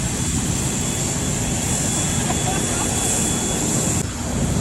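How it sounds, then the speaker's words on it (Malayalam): Massive engine roar from the world's largest airplane, powered by two huge Rolls-Royce engines, at the Dubai Airshow; a loud, steady broadband drone fills the whole clip with a brief dip near the end. "റോൾസ് റോയ്സിന്റെ പടക്കൂറ്റൻ 2 എഞ്ചിനുകളാണ് ഇതിന് പവർ കൊടുക്കുന്നത്"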